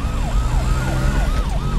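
In a Telugu film street scene, an ambulance siren wails loudly and continuously in a rapid rising-and-falling pattern over a rumble of traffic, with no talking.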